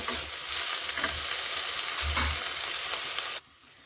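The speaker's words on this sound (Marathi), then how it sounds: "तुम्ही बघू शकता अशा पद्धतीने आपण भाजी फिरवून घेतलेली आहे" Green chickpea leaves being stir-fried in a pan, a close, steady sizzle with scraping stirs and a few low thumps, stopping abruptly near the end.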